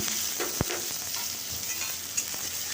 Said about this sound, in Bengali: এরপর আমি রসুন ছেঁচা আর লঙ্কাটা দিয়ে দিলাম